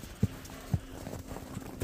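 Horse hooves clip-clop in a few sparse, distinct knocks about half a second apart, faint and at moderate distance over a quiet background.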